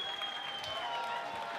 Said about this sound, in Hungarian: de egy óriási tapsot neki!